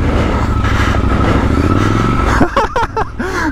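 A Triumph Scrambler 1200 XE motorcycle rides off-road with a loud, close engine drone and shifting pitch, then a rider's voice breaks in over the running engine.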